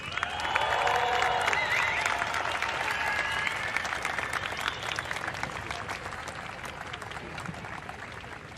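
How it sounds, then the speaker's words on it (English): A crowd at a surf contest applauds and cheers for the Australian women's champion, with dense clapping and whoops, loudest at the start and then gradually fading. "Let's make some noise for your women's champion from Australia, Macy Callaghan"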